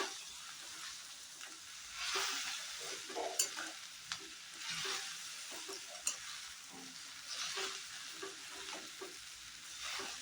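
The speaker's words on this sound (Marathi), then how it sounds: "आता ह्यांना चांगलं हलवून घ्यायचं आहे." Veg chow mein noodles being stirred and tossed in a hot pan with a fork, steady frying sizzle throughout and scraping strokes repeating every second or two, close and fairly loud, no voices.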